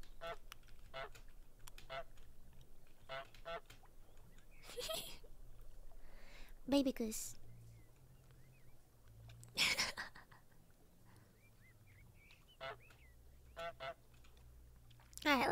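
Untitled Goose Game's goose lets out several loud, sharp honks spaced across the stretch, over soft keyboard clicking and a voice talking in between.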